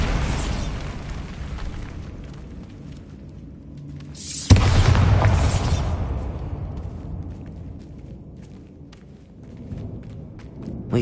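A Bombarda spell goes off inside a tomb in the Hogwarts Legacy game: one sudden loud blast with a rumbling tail that fades over a couple of seconds, heard over a dark, quiet ambient bed.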